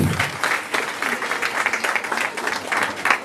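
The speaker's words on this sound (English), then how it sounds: "please give him a wonderful, grateful round of applause as he comes" A graduation audience at a high school ceremony bursts into a steady round of applause, dense and sustained clapping throughout, with a few faint voices mixed in.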